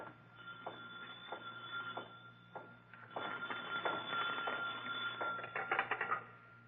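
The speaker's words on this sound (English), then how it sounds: "Suddenly, a phone rings on the desk of the night watchman, rings and shatters the silence of this modern tomb of ancient art." A desk telephone rings as a radio drama sound effect, a muffled bell in a series of repeated rings that grow more insistent, heard faintly and alone on an old, band-limited recording.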